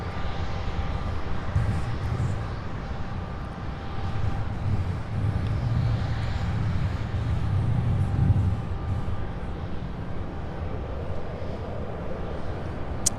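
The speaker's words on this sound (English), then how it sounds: "The daily flight out of Atlanta, Delta Flight 2448, a 737-900 coming in for a landing" A Delta Boeing 737-900 airliner coming in to land on runway 35 right produces a steady, moderately distant jet rumble that swells slightly and holds, with no talking.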